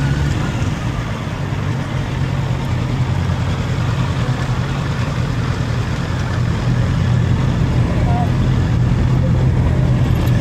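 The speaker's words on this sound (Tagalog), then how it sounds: "napakaganda po ng tunog nito pong Honda CB650R dahil nga inline 4 ito" Honda CB650R inline-four motorcycle engine, a steady loud low drone running throughout with wind rush over it, as if recorded while riding.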